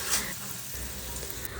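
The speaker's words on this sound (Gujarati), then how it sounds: "વઘારમાં આપણે સમારેલા કારેલા નાખીને ગેસની ફ્લેમ સાવ ધીમી રાખીને સરસ રીતે મિક્સ કરી લેશું" Sliced bitter gourd tossed into hot tempering oil over a very low flame, giving a steady, close, moderate sizzle that holds evenly throughout, with no talking.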